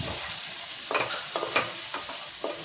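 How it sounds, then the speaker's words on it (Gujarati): Spices with turmeric and Kashmiri red chili heating in a pan with chopped green peas, a soft, continuous sizzle broken by several short stirring scrapes, fairly quiet and close. "બધા જ મસાલાને સરસ અહીંયા ગરમ થવા દઈશું."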